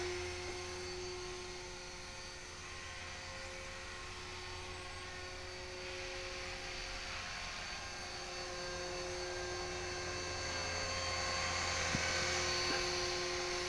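A faint, steady whine of an HK 450GT model helicopter hovering at a distance on a foggy morning, with a buzzing rotor drone that slowly grows a little louder.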